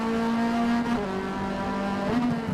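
A modified 1970 Datsun 510 race car in Forza Motorsport revs hard under full throttle, its engine note rising and dropping through gear changes with a brief tire squeal, loud and close with no talk.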